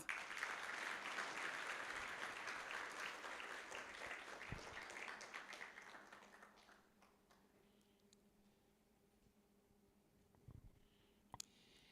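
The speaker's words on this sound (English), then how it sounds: "Can I hear another round of applause?" Applause from a conference audience at the opening session of an international water, peace and security conference in Nairobi, a dense sustained clapping that fades out after about seven seconds, leaving quiet room tone with a couple of small knocks.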